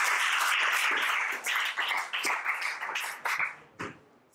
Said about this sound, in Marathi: सो या त्यांच्या मवाळ वृत्तीला पण एकदा आपण जोरदार टाळ्या देऊ.